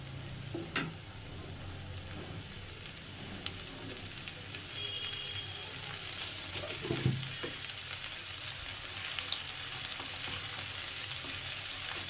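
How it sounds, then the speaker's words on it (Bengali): Leftover rice and a broken egg frying in the middle of a pan for mixed pulao, a quiet steady sizzle with a few light stirring clicks. "এবার এটা আমি একটু মাঝখানটাতেই ভাজা ভাজা করে নেব।"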